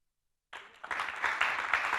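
Applause from an audience at a CNRS medal award ceremony in Hauts-de-France starts abruptly after a moment of silence, then swells into steady, dense clapping from many hands in a hall.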